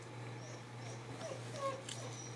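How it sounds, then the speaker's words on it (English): A dog whimpers in the morning to rouse another dog from bed, giving faint, thin whines and soft yips over a low steady background hum, with no talking. "It's that time in the morning when one dog is wanting the other to get out of bed, and then we spend all our time crying"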